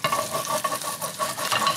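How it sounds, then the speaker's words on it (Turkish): Meatballs sizzle steadily in butter and oil in a pan, a loud, close, continuous frying hiss with light stirring and no talk. "Hemen onları kızartalım."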